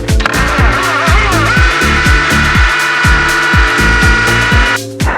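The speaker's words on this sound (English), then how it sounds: "I'm going to start with a smaller masonry bit" A hammer drill with a small masonry bit grinds loudly into concrete, with rhythmic pulsing thuds of the hammer action, close up and continuous before stopping at the end.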